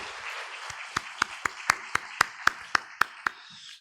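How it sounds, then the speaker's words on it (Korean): Church congregation at a special dawn prayer service claps in a steady, evenly spaced rhythm, about ten sharp claps in unison standing out over a soft background wash of scattered applause. "우리 하나님 앞에 영광의 박수 올려드리겠습니다"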